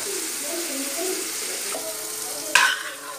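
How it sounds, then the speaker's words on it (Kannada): Vegetables frying in a pan for veg cutlets, a close continuous sizzle with a single sharp scrape or clatter of a spoon near the end. "ಚೆನ್ನಾಗಿ ಫ್ರೈ ಮಾಡುವ"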